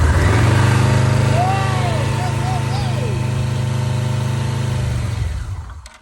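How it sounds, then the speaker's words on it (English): A Yamaha Vmax motorcycle engine, freshly fitted with a new coil and plugs and running on a jump, idles with a steady low throb and layered hum, close and loud, before dying away at the end. "Now that I had the engine running,"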